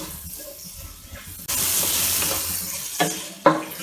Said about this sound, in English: Cook this until the onions are slightly brown in color